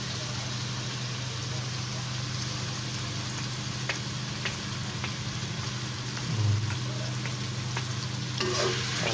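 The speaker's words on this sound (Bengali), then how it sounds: "তারপরে একটু নাড়াচাড়া দিলাম" Duck curry with blended dried chili sizzles steadily in a pan while being stirred, a continuous close frying hiss with occasional scraping clicks of the spoon, no talking.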